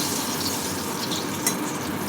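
Dhoka lentil cakes fry in oil in a pan, a steady close sizzling hiss with faint bubbling and one brief clink, no voices.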